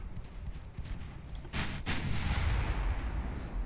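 Rapid naval gunfire from small 2-inch guns in the warship game Ultimate Admiral Dreadnoughts, a few sharp booming shots followed by a rumbling, sustained barrage that thickens into a continuous roar.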